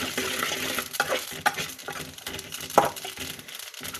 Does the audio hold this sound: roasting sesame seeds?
yes